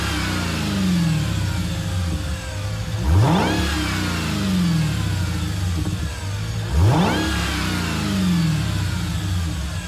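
Dodge Challenger SRT Demon in Gran Turismo 7, its engine revving hard in two rising sweeps that fall back to a rumbling idle between them, loud and near with no voices.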